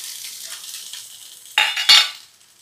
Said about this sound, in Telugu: ఇవి కూడా ఇందులో వేసి వేయించుకుందాం